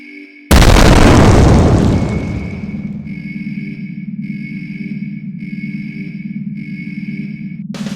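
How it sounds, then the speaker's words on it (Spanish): An atomic bomb explosion lands as a single huge, sudden boom that rolls on in a long rumbling decay, followed by a sustained low drone with faint repeating electronic tones. "Número 8. La bomba atómica."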